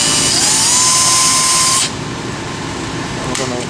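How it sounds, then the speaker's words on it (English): A power drill boring a pilot hole whirs steadily at high speed for about two seconds, then cuts off, leaving a quieter background hum and a brief clatter near the end. "we're going to just drill the pilot hole"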